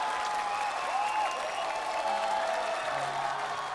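Sustained audience applause in a large hall for two singers on a televised singing competition stage, dense and steady throughout with faint tonal sounds drifting above it.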